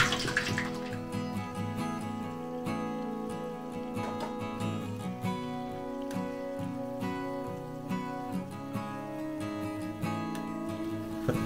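Medu vada batter fries in hot oil, water in it making the oil spit, heard as a continuous bubbling crackle with scattered sharp pops at moderate, close level.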